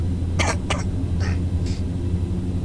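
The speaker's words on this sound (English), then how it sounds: "all I did was cough" A person coughs two sharp times close to the microphone, followed by two softer throat sounds, over a steady low background hum.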